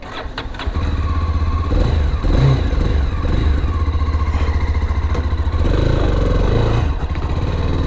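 A 2021 Mahindra Mojo 300 ABS BS6 motorcycle engine cranks and catches with the clutch held, then runs loud and close with a steady throbbing idle and a few revs, mechanical clatter underneath.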